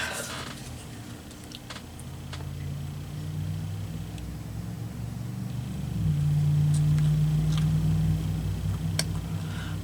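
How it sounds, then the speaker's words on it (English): A loud truck rolls along a nearby highway, its low rumble building and peaking toward the end, while light ticks and paper handling from collage journaling at a desk sound in the foreground. "That's a loud truck going down the highway."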